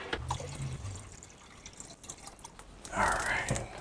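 Water poured into a Kodak Xtol developer mix, a soft splashing trickle with a louder rush of pouring near the end, close by and fairly quiet.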